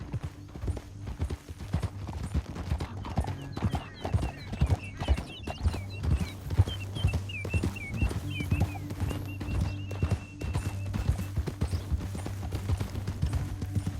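Rhythmic clip-clop of horse hooves at a brisk pace in Red Dead Redemption 2, with an occasional whinny, over a low steady rumble and faint high chirps.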